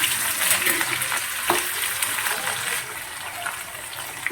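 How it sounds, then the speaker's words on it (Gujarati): Green garlic paste sizzling in hot oil, a loud continuous frying hiss with a few stirring scrapes, easing slightly toward the end. "થોડા મસાલા નાખી દઈશું લીલું લસણની કચ્છી તેલ નાખી દઈશું"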